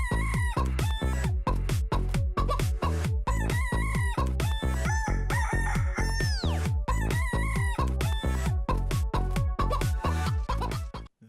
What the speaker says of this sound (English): It's a small chicken that lays a lot of eggs. I introduce to you the Leghorn.